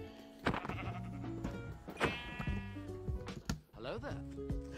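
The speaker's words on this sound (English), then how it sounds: "Oh, hey, there's a sheep." Sheep in Minecraft bleat several times, the wavering cries standing out over game background noise and other sounds, with no talking.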